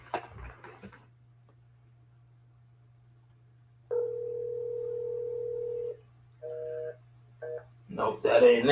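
A phone line tone hums steadily, then comes a two-second flat tone followed by short paired tones as a number is dialed, close and clear, with a voice briefly at the start and end.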